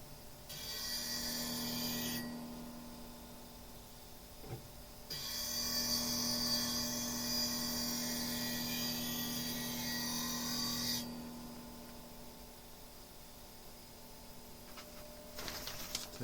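A spindle gouge being reshaped on a bench grinder in a woodturning shop, two long bursts of hissing, scraping grinding over a steady motor hum, separated by a short pause.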